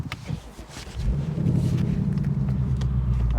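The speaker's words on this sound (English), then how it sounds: "let's drive the 2024 Ford Mustang." A 2024 Ford Mustang pulling away, a low engine rumble swelling after a second into a steady, close drone with light interior rattles.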